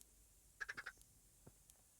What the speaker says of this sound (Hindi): ये छोटे मुर्गी की आवाज़ है ना।